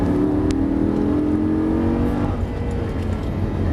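Lamborghini LP 560-2 engine howling at full throttle on the Dreux racing circuit, a loud sustained tone rising in pitch as it accelerates, heard from inside the car.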